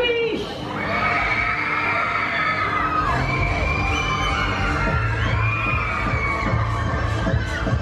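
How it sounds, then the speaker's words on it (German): Riders scream and shriek on the Transformer fairground ride at the Dippemess funfair in Frankfurt, a dense, loud chorus of overlapping high-pitched yells with mechanical clatter and thumps underneath. "Leute, bitte schreit für mich!"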